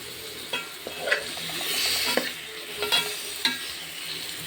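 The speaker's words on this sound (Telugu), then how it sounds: "మొత్తం పోసాక చింతపండు పులుసు అది వేసాక తిప్పితే బాగుంటుంది" A spoon stirs fish curry in a pan after tamarind juice is poured in, giving steady scraping and a soft sizzle with several sharper clinks against the pan, close and alone without talk.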